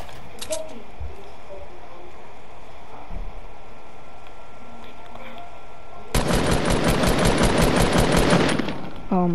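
Fortnite video game gunfire: a few scattered shots early on, then a loud, sustained burst of rapid automatic fire for about three seconds, with faint talking nearby.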